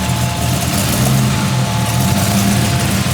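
A 1940 Ford car runs in drive, its engine a loud, steady low rumble with a constant hum, close and continuous without variation.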